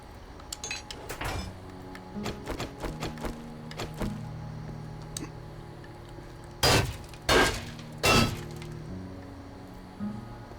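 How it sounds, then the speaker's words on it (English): Hammering and building sounds in the survival video game 7 Days to Die, a scatter of clinks and knocks followed by three loud, heavy strikes, with no talking. "Get my hammer out."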